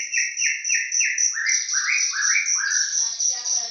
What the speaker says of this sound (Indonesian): setiap hari saya ngasih makan burung satu persatu